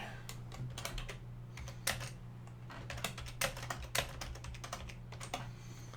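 Fingers type on a computer keyboard in irregular bursts of close, crisp key clicks, with a steady low hum underneath.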